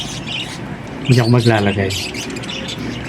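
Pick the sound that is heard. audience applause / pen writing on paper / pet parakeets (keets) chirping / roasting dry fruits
pet parakeets (keets) chirping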